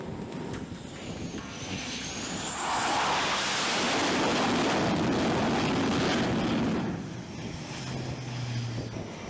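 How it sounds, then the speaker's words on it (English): A jet aircraft makes an arrested landing, engines roaring as arresting wires strain. The noise is broad and rumbling, swells to a peak in the middle, then eases off, with wind buffeting the microphone. "the aircraft screeches to a halt, its engines roaring and the arresting wires shaking under strain"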